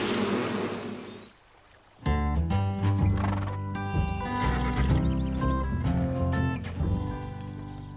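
Cartoon horse from a Lucky Luke Western animated series whinnying over a lively music score, with clip-clopping hooves, starting after a brief lull and carrying on loud and continuous.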